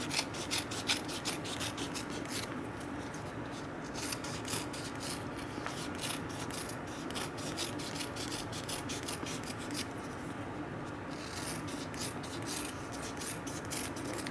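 Scissors cut kinesiology tape into strips with quiet, repeated snipping and rasping cuts, close by and steady, with no voices.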